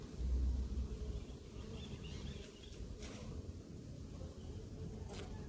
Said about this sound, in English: Whole heap of bees, probably a couple thousand.